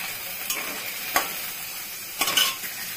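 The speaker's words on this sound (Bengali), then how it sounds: "এখন আমি কষাচ্ছি" A spice paste of turmeric and salt for chital fish muitha is sautéed in a pan. A spoon scrapes through it several times over a soft, even sizzle.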